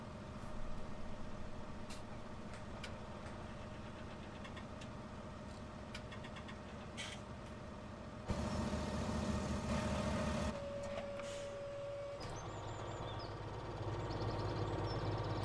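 Farming Simulator tractor engine idles steadily while a baler folds up, with hydraulic whines, clunks and a rising mechanical hum midway, loud and continuous throughout.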